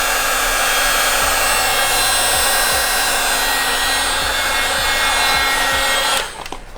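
A heat gun blows hot air steadily over a blackout badge wrap on a VW MK2 Tiguan, a continuous close whooshing roar that holds for about six seconds and then cuts off.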